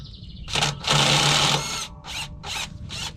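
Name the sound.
power tool removing a bolt on a cabover truck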